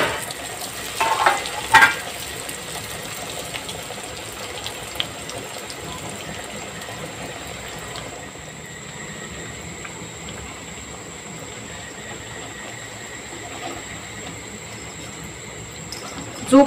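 Samosas deep-frying in hot oil give a steady, low sizzling hiss across the clip, with a few brief louder bubbling bursts near the start and end.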